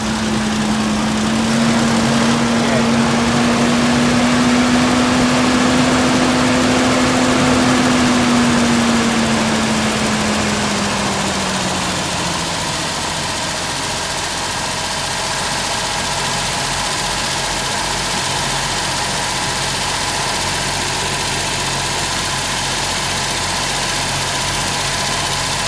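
A Ford Sierra Estate Mk1 4x4 Ghia with a 2.8i engine idles close by with a steady rumble. A tone glides in the first half before the engine settles into an even idle, with no voices.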